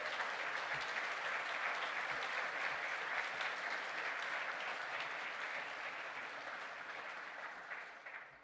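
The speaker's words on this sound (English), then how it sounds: "give a round of applause for those who have helped you and supported you along the way" Graduates at a graduation ceremony applaud their families and friends, a dense, steady roar of clapping from a large crowd that holds for several seconds and slowly tapers toward the end.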